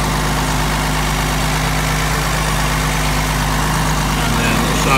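A 1971 Mercedes-Benz 280SL engine idles steadily and close by, a constant low mechanical drone with an even hum throughout, and no talking over it.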